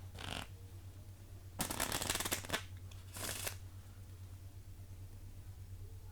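A deck of playing cards is shuffled during a morning show segment, two quick riffling bursts close up over a low steady hum, with a short faint rustle before them.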